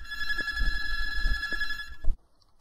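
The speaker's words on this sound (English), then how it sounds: "Garage phone." A garage telephone rings with a steady electronic bell tone for about two seconds, then cuts off abruptly into silence.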